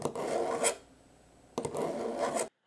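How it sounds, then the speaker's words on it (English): A knife blade is drawn twice through a Smith's Pocket Pal sharpener, two close, gritty rasping strokes separated by a short pause, with no talk. "We use the Pocket Pal to sharpen all the knives we review."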